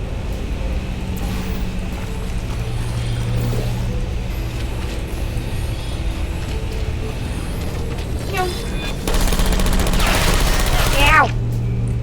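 Turrets in Portal Stories: Mel fire rapid bursts of gunfire, with mechanical whirring and clicking over a steady game hum. The firing gets louder and denser toward the end, with sweeping electronic tones over it.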